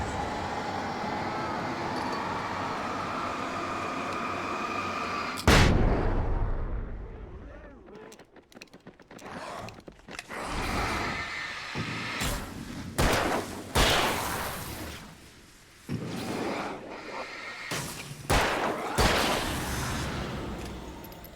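A flash grenade goes off in Alan Wake with a sudden loud burst that cuts off the steady ambience, followed by a ringing hollow stretch and a run of sharp thuds and bangs.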